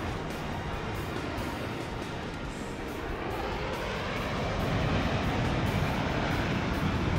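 Flying car from Final Fantasy XV coming in to land, a dense, steady engine roar with broad wind-like rush, loud and continuous, swelling slightly toward the end.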